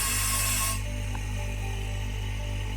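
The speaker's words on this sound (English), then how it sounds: "just release some of the vacuum" Air hisses out of a vacuum chamber used to degas mould-making rubber: a bright, loud rush that cuts off after under a second, leaving the steady low hum of the pump running alone.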